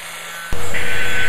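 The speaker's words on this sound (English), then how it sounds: "my angle grinder with the wire brush attachment" An angle grinder with a wire brush attachment scrubs heavy rust off the bottom of a snowblower, bursting in abruptly as a loud, harsh, continuous abrasive roar close by.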